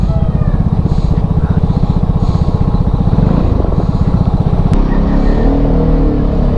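Motorcycle engines on a road during a Batangas group ride, a loud close rumbling drone with a rapid pulsing rhythm that shifts in pitch partway through as the engine note changes.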